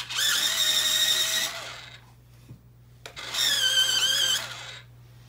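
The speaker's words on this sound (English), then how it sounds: "Give it another sharpen." An electric pencil sharpener grinds a colored pencil in two whining bursts of about one and a half seconds each, close and fairly loud, separated by a brief pause with a couple of small clicks.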